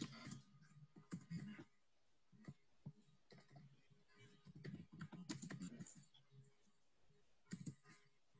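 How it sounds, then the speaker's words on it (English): Quiet computer keyboard typing into a chat box during an online webinar, bursts of rapid key clicks separated by pauses, close and faint. "Ishita, would you mind typing it out on the chat box so that other participants can also take a look at it?"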